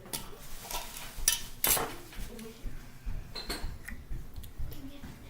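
A tablespoon scoops hot chocolate mix into a pot, making quiet, intermittent clinks and scrapes of metal against cookware at close range, with no talk.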